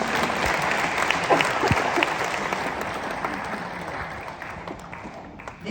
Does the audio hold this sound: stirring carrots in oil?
no